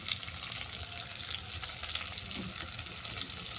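Okra being fried in a pan for a Bengali pankha fish sour curry, a steady close crackling sizzle with soft stirring scrapes that runs evenly throughout, with no talking.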